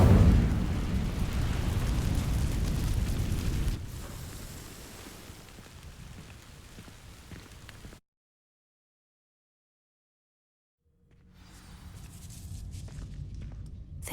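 A fire spell bursts into flame and ignites dry vines in a video game. A loud whoosh and roar at the start dies into a crackling rumble, then cuts to silence before low ambient rumbling returns.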